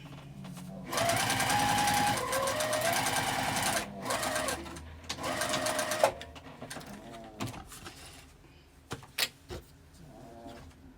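A sewing machine stitches vinyl for a makeup zipper bag in a long, close run, followed by shorter stop-start bursts and a few isolated clicks as it slows.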